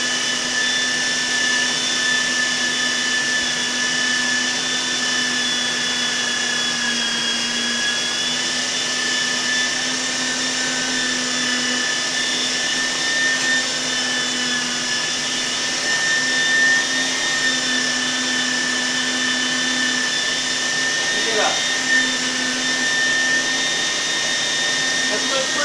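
A meat grinder grinds venison for homemade sausage with a loud, steady motor whine that holds constant throughout and has no breaks.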